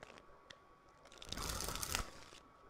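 Barbecue Pringles chips crunched close to the mic: a faint crinkle and click, then a burst of dry crunching bites and chewing lasting about a second, with no talk.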